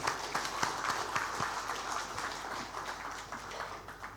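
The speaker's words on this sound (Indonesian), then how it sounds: "aplaus yang luar biasa untuk kita semua" An audience at an RS JIH Solo hospital event keeps up steady, moderately loud applause, a dense patter of many hands clapping continuously throughout.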